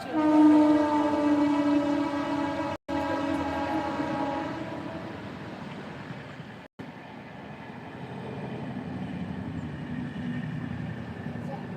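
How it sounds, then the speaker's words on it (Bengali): A train passes by, heard from a balcony at home: a steady loud rumble of rail cars with a long horn-like tone at the start, fading slightly later on. A person talks over the passing train. "আর ট্রেন কোথায় ট্রেন ও এই যে ট্রেন যাচ্ছে"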